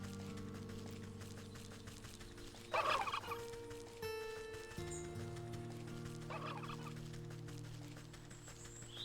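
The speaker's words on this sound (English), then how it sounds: "Past the stupid turkeys." Turkeys gobble in the video game Wytchwood, two distinct bursts of warbling calls rising over a steady droning music bed with chiming tones, fairly close and clear.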